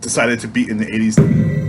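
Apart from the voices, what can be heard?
No everyday noises stand out.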